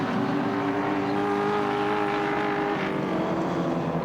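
Touring cars racing at Oran Park circuit in 1986 drone steadily at a moderate distance, their engines holding a high, sustained whine without a break.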